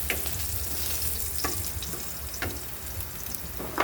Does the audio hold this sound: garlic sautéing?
yes